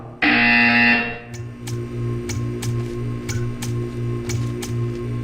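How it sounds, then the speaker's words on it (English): A loud electronic buzzer from the Portal 2 video game blares for about a second, then gives way to a steady hum broken by short, regular clicks, with no talk. "You will hear a buzzer."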